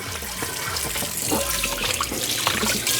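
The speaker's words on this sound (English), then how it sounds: "Before I do anything, before I use any soap or anything like that, I'm going to rinse as much as I possibly can out." Tap water runs hard into a sink while a cleaning tool is rinsed out, making a loud, continuous splashing rush with gurgling and shifting spatter throughout.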